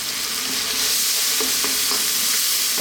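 Shrimp fried rice with dark soy and fish sauce stir-frying over high heat in a pan, a dense continuous sizzle with quick stirring scrapes, loud and close, no voices.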